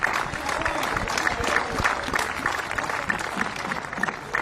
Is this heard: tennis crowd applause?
yes